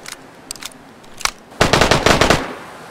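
M4 rifle fire in the DayZ video game, a few scattered shots followed by a fast, loud automatic burst of about a second, close and dominant.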